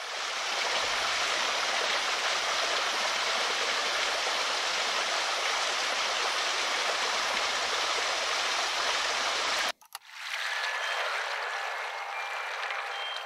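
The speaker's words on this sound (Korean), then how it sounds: "폭포 소리" A waterfall sound-library effect roars as a steady, dense wash of falling water that fills the scene for nearly ten seconds, then cuts off sharply to a much thinner, quieter water hiss.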